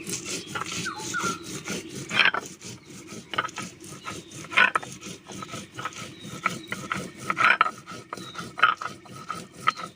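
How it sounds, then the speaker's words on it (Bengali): Green chillies being ground on a traditional Bengali grinding stone, a steady back-and-forth rasping scrape with repeated rubbing strokes and occasional sharper grating bursts, close and moderately loud with no talk. "কাঁচা লঙ্কাটা বেটে নেব।"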